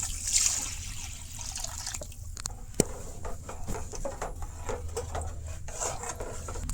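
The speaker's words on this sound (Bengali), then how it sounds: "ওরকম কষানোর পরে এখন জল দিয়ে দিলাম।" Water poured into a pan of spiced pointed gourd curry, a steady close pouring and trickling wash with a few small clinks, heard alone without talk.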